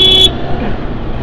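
A Zontes GK350 motorcycle horn gives one short, loud toot that cuts off abruptly, followed by a brief rumble of traffic-like noise.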